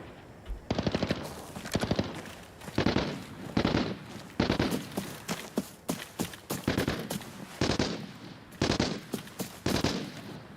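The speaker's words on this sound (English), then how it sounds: "It's a sub machine gun. Yeah, micro SMG." A micro SMG submachine gun fires in a video game, loud rapid bursts of automatic gunfire repeating in short volleys with brief pauses between them.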